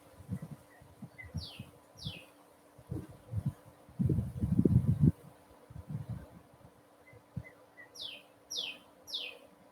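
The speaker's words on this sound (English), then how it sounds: "That bird's getting closer." Faint bird chirps recur high above a low rumble of wind and rustling outdoors from a porch, a pair of quick tweets early and a run of three later.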